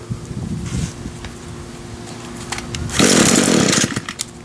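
A vintage RedMax two-stroke engine, fresh from the repair shop and choked with an old primer ball, sputters briefly and then bursts into a loud, buzzing run.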